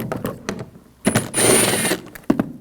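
Ratchet with an 8mm socket backing out engine cover screws on a 2007-2013 BMW 328i 3.0L inline-six, giving quick bursts of close mechanical clicking and a sustained loud ratcheting run, with brief gaps between.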